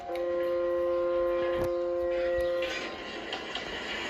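A train of empty freight cars passes with a steady tonal horn or whistle for a few seconds, then rumbling and clattering wagons fade in noise.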